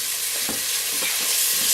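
Mushrooms brown in a pot for beef stroganoff, giving a steady, close sizzle with a few soft stirring scrapes against the pot bottom and no voices.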